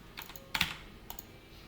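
Computer keyboard keys tapped while writing jQuery code, a few light clicks followed by a sharper cluster of keystrokes and then scattered soft taps, close and clear over quiet room noise.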